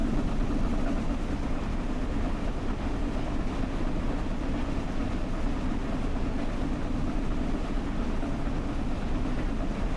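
A steam locomotive blowing off boiler pressure in Train Sim World 5, a steady, loud, continuous roaring hiss of steam that holds unchanged for the whole stretch with no talk over it.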